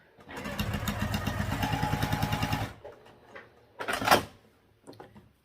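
Sewing machine sewing down each side of a crossbody bag, a fast, rhythmic mechanical chatter lasting about two and a half seconds, followed by a short rustle and quiet handling sounds.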